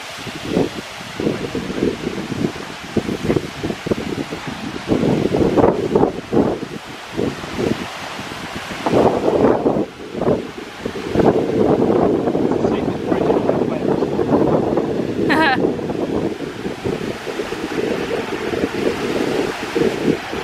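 Strong, gusty wind buffets the microphone during a mountain trek up Pen y Fan, roaring steadily and swelling in loud bursts, with people talking over it throughout.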